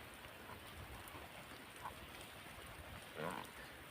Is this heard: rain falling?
yes